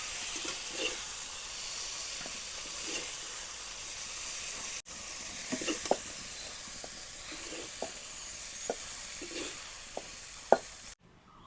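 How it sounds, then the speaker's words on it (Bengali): Okra fries in a pan with a little water and turmeric, giving a steady soft sizzle and hiss with faint stirring scrapes, alone and moderately quiet. "ভেন্ডিটা কিছুক্ষণ সময় ভাজে উঠায় নিলাম।"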